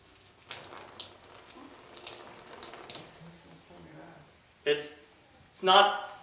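Water from a cup poured into a funnel, heard as a couple of short splashing pours near the end after a stretch of speech.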